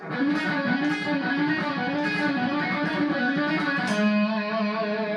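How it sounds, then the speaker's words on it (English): Overdriven electric guitar runs quickly through a smooth, legato A blues scale lick, notes flowing without pause before settling on a held tone. "the first lick here is actually an A blues scale idea"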